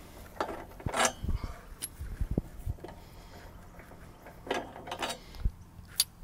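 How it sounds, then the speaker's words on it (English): Threaded locks being undone at the rear of an Infinity Series trailer, with a few close metallic clicks and ratcheting turns spaced irregularly against a quiet outdoor background. "So we're going to start with undoing our threaded locks here."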